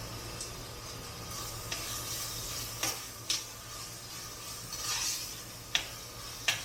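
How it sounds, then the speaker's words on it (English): Ginger garlic paste fries with onions in a pan for butter chicken, a soft steady sizzle and hiss at low volume, punctuated by a few sharp clinks and scrapes of a utensil stirring, with no talking. "We have to fry till the raw flavor is gone in ginger garlic paste."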